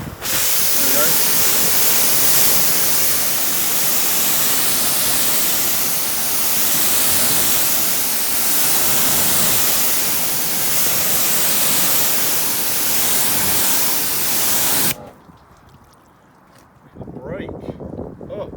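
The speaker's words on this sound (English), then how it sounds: "we're going to give it a go with the pressure washer" A pressure washer sprays Autoglym Ceramic Wash & Protect onto a car as a loud, continuous broadband hiss for about fifteen seconds, then cuts off, leaving quieter surroundings and a little talk.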